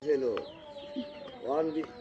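Chickens clucking at a village home, several short rising clucks close by at the start and again near the end, with quieter bird calls between them.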